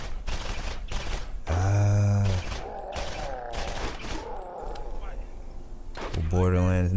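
Gunfire bursts from the video game Borderlands, loud rapid shots in two clusters, with game sounds and a voice talking between them.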